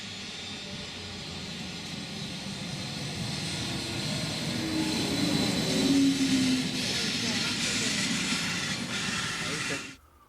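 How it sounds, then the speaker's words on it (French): A train runs on the international line through Dobbiaco in the Dolomites, a steady broadband rumble and hiss that holds for about ten seconds, swelling slightly midway before cutting off abruptly. "Nous retrouvons avec grand plaisir des rails et des trains."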